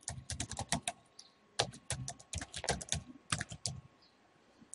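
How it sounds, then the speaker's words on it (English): Someone types a username and password on a computer keyboard: rapid, fairly quiet clusters of sharp keystroke clicks in uneven bursts with short pauses, with no voices. "type your username and password in this box"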